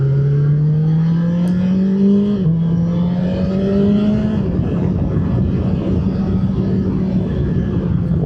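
A BMW S 1000 XR motorcycle engine drones and revs while riding, pitch climbing steadily, dipping with a quick gear shift, then rising again in a continuous close mechanical roar.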